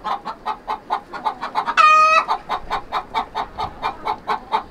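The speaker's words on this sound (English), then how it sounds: "if a chicken is getting ready to lay an egg, you might hear a loud noise that, you know, is just them kind of singing." A hen sings the egg song before laying, giving a fast, loud, rhythmic run of clucks up close, broken near the middle by a brief drawn-out squawk, then picking back up.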